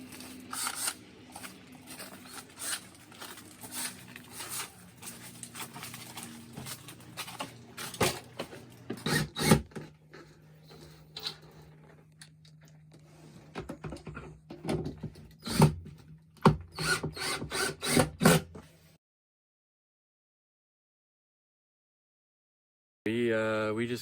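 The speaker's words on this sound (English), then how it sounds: "we're gonna go screw the frame in and see how that goes" Work on an RV front window frame being screwed into place: bursts of scraping, tapping and driver noise with irregular clicks, fairly close, then a stretch of silence before a brief loud burst at the end.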